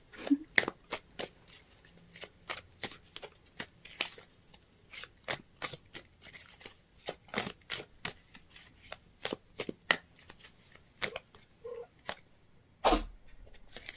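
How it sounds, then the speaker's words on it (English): Tarot cards are shuffled close up in quick, crisp riffling bursts, a rapid series of sharp slaps spread across the span, with someone speaking softly in between and a cat meowing faintly. "that's what happens when you shuffle the cards"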